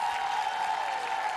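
Applause from an audience after a six-year-old's car race, a steady wash of clapping, moderately loud and continuous with no pauses.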